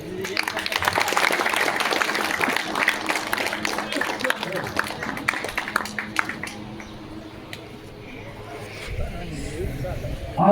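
An audience at a Holi gathering in Madhopur, Samastipur, claps in a dense burst that gradually thins and fades, with voices talking over and after it.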